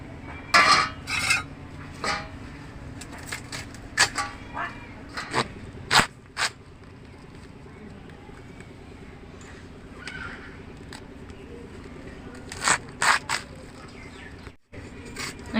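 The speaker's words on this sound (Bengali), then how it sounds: "আমি বাঁধাকপিটা ঝিরিঝিরি করে কেটে নেব।" A knife shreds cabbage thinly on a board with sharp, irregular chopping taps, first in quick clusters, then after a quiet pause in scattered strokes.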